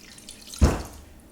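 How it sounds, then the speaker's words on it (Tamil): Lemon juice is poured into a pan of cooled sugar syrup in one short, close splash that tapers quickly into quiet. "இப்போ இது நம்ம எடுத்து வச்சுருக்க லெமன் ஜூஸை சேர்த்துக்கலாம்."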